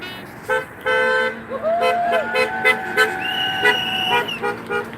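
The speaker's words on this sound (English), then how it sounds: "See a lot of honking" Car horns honk repeatedly at a street protest against ICE in Saint Paul, several overlapping toots of different pitches, some short and some held, rising over a steady hum of traffic and crowd noise.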